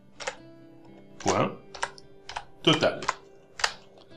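Formula typed on a computer keyboard in Excel, a few separate clusters of crisp key clicks spread over several seconds, close and fairly quiet, with a person speaking between them.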